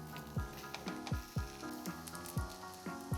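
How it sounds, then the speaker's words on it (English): Spam slices sizzle in a big pan over medium heat, with a steady frying hiss broken by several sharp crackling bursts as slices are laid down one at a time, close and fairly loud. "Setting down our big pan at medium heat, we place down the spam slices one at a time."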